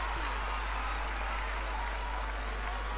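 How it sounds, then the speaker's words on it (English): A netball crowd in an arena applauding and cheering during a West Coast Fever versus Sunshine Coast Lightning match, a dense, steady wash of clapping with a low rumble underneath. "this crowd's just got excited all of a sudden again"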